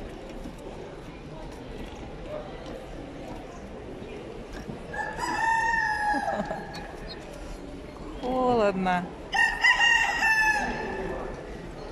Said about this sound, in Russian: Петухи перекликаются.